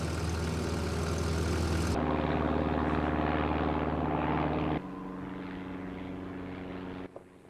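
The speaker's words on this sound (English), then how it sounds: "there's a plane" A steady, droning propeller plane engine hums loudly throughout over Mount Johnson, Alaska, shifting slightly in tone as it passes, with no talking.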